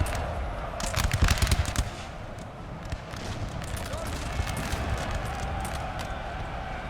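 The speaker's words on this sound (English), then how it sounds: "France's artillery doing their best to drive the enemy back." Artillery and musket fire in the Napoleon Total War battle game, a burst of rapid cracks and thumps early on, then scattered shots, under steady battle noise with a voice talking over it.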